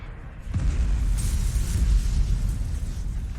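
A deep, rumbling torpedo explosion booms from a space battle in Battlefleet Gothic: Armada 2, a loud low blast that rolls on and sustains for several seconds without fading.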